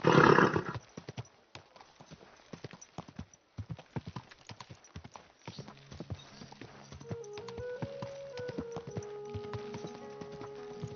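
A horse clip-clops in steady hoofbeats across the clip, with a loud burst at the start and a drawn-out whinny toward the end over background noise.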